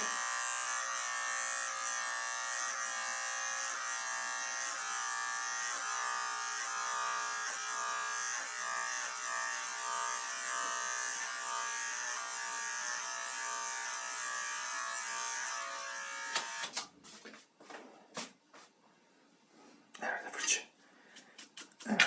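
An electric hair clipper buzzes steadily and close during a self-administered haircut, a continuous loud drone that cuts off near the end, leaving scattered handling clicks and rustles.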